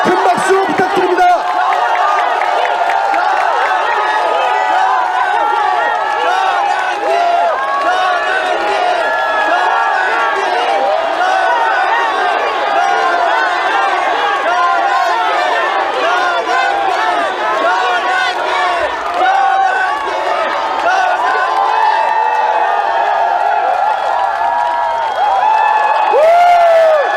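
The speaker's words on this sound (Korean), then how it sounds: "큰 박수 부탁드립니다" Loud, sustained crowd cheering and applause filling a large hall as a Korean history lecturer is welcomed onto the stage, with whoops and shouts mixed into the steady roar throughout.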